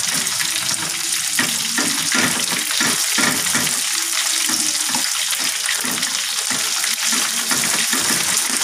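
Food is stirred in a cooking pot over the heat, giving a loud, continuous close sizzle with repeated scraping and sloshing strokes in an uneven rhythm.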